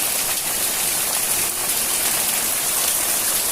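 Heavy rain pours steadily into a house courtyard in Ratnagiri at night, a dense continuous hiss of water striking the flooded ground and water running off the roof tiles, loud and unbroken with no voices.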